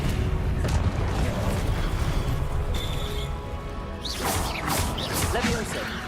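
A fiery Confringo blast spell erupts in Hogwarts Legacy, a loud crash and boom with game combat noise and speech-like voice sounds over it.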